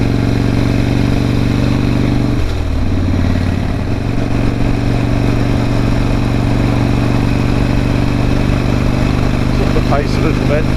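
A Harley cruiser motorcycle hums along at a steady engine drone, loud and constant throughout, with a brief shift in pitch partway through; a voice speaks over the engine.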